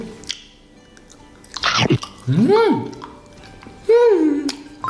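Someone chewing cotton candy close to the microphone, with soft wet chewing and squishing bursts between short vocal sounds and murmurs.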